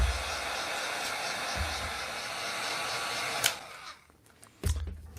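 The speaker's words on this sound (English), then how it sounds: "And let's heat shrink this thing." A heat gun blows a steady broad hiss while shrinking heat shrink tubing on an action figure part, running continuously before cutting off briefly near the end and resuming.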